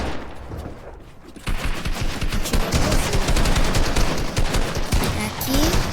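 Gunfire in an online shooter game match, rapid bursts of automatic fire that kick in loudly after a quieter opening and rattle on almost continuously.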